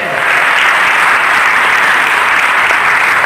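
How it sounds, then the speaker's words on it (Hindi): A church congregation claps steadily and loudly throughout, a dense, continuous wash of many hands with no voices standing out. "ताली बजा दो यार।"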